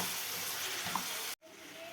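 Garlic and tomatoes frying in a pan for a spicy chutney, a steady close sizzle that cuts out briefly, then resumes more softly.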